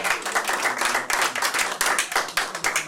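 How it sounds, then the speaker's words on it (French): Guests at a dinner gathering clap together in a dense, steady burst of applause that holds at an even level from start to finish, with no talk over it. "on peut l'applaudir, lui dire merci pour tant de présence et de présence"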